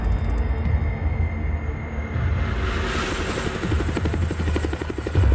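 A large helicopter carrying a steel Conex shipping container thunders close by, its rotor chopping in a fast rhythmic beat over a heavy engine rumble that builds louder toward the end.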